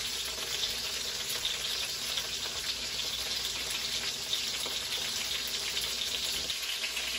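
Squab pan-frying over medium-high heat for a lemongrass dish gives a steady, close sizzle throughout, with faint hiss and crackle and no talking.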